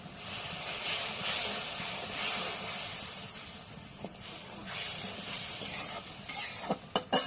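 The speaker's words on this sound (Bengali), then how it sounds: "এখন মশলাটা একটু কষাই" Spice masala stirred and fried in a pan, a steady close sizzle with scraping spoon strokes and a few sharper knocks near the end, no talking.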